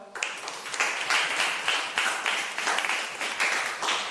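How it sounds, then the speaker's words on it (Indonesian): A classroom group of students and teachers claps together after presentations, a moderate, even patter of many hands at a fairly low level throughout. "tepuk tangan untuk kita semua"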